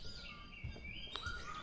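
Birds sing in the morning forest on Bongseosan mountain in Korea, a few clear whistled and chirping calls rising and falling, close but soft over faint low background rumble.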